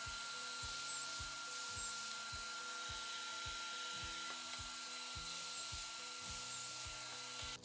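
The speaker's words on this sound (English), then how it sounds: "For the frame of the wall, I'm going to join them with pocket hole screws." Power driver running pocket hole screws into a wooden wall frame, a close, continuous motor whine with a rapid rhythmic ratcheting pulse throughout, rising in short surges.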